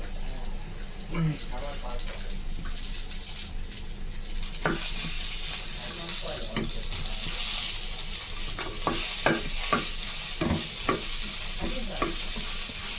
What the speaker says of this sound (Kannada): ಕರಿಬೇವು ಸೊಪ್ಪು ಸ್ವಲ್ಪ ಫ್ರೈ ಆಗಬೇಕು.